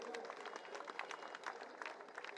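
Crowd applause and clapping at a political rally in Punjab, dense and continuous with scattered sharper claps, fairly steady throughout with a busy crowd texture beneath.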